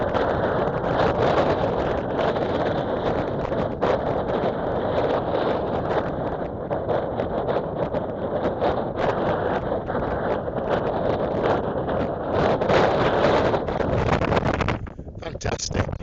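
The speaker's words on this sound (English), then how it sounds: "Bit windy" Strong wind buffets the microphone on a Lake District fell, a dense, steady roar of gusting noise that holds for the whole stretch and briefly eases near the end.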